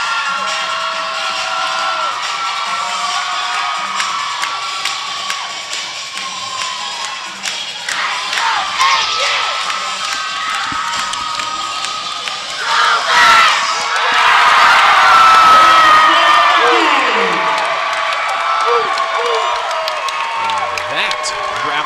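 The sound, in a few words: home crowd giving a standing ovation, cheering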